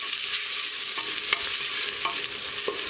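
Salted onions sauté in a pan with a constant bright sizzle, punctuated by several sharp scrapes and taps of the spoon as they are stirred.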